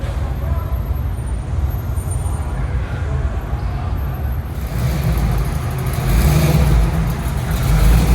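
Cars rolling through a covered parking deck at a Biloxi car show block party, a steady, loud engine and tire rumble echoing off the concrete, growing heavier near the end as another vehicle passes close.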